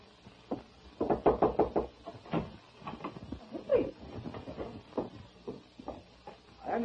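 Knocking on an apartment door in a 1940s film scene, a run of sharp, fairly loud raps in quick clusters with a few spaced knocks after, sounding close and dry.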